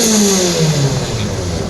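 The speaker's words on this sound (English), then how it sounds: "There's some noise from a BAC mono" Loud, close BAC Mono sports car engine revving hard at a supercar parade, its high whining pitch sweeping upward across a continuous roar.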